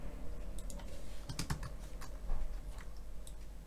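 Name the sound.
typing on a computer keyboard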